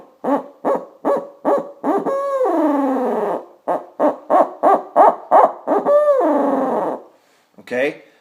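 A person imitates an owl's hoot by voice, using the diaphragm and a rolling throat flutter, producing a rhythmic series of short hoots followed by longer rolled hoots, loud and close with brief pauses.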